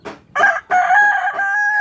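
A rooster crows loudly and close by, a short opening note and then a long drawn-out call.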